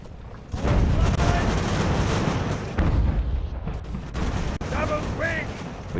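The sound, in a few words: artillery fire in the video game Ultimate Admiral: Age of Sail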